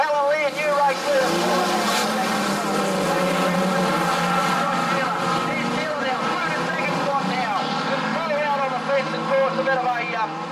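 Street stock race cars lap a dirt speedway track in a heat race, engines droning steadily and loudly throughout with wavering pitch, a race commentator talking over the continuous roar.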